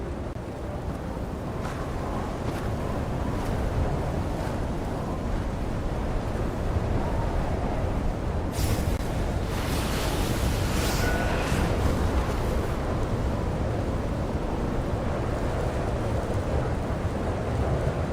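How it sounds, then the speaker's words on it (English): A loud, steady storm from the video game Genshin Impact: a dense roar of wind and rain runs throughout, with rumbling thunder swelling midway. No one speaks. "Let's get out of this storm."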